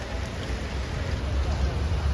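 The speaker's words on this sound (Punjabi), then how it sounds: "ਦੇਖੋ ਮੀਂਹ ਪੈ ਰਿਹਾ ਪੂਰਾ" Rain pours down in a steady, dense hiss, a continuous wash of noise with no breaks, fairly close and even throughout.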